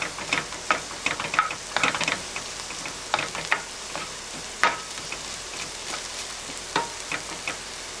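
Garlic sizzles and spits in a butter sauce in a pan, a steady frying hiss broken by sharp crackles and pops at irregular intervals, close and moderately loud, with no talking.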